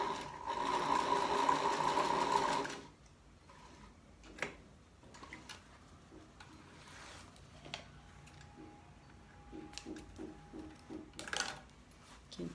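Fabric being stitched on a sewing machine while making a cachepô: a steady mechanical whir for about three seconds, then quiet handling with scattered clicks and taps, and a short burst of stitching near the end.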